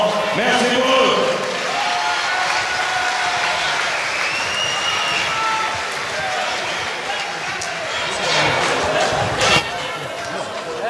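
Audience applause at a kickboxing championship bout, a sustained wash of clapping and crowd noise in a large venue, under an announcer talking over a microphone.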